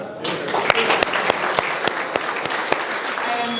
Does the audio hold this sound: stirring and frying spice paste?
no